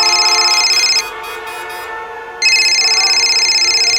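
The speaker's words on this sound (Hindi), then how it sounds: "लो, बीवी का फोन है।" A mobile phone rings for an incoming call with a loud, steady electronic ringtone that stops briefly and then resumes, heard alone without talk.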